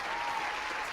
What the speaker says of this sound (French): C'est tous les gens qui t'applaudissent Amy aujourd'hui